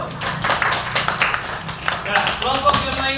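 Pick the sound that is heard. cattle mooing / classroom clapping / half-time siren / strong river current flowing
classroom clapping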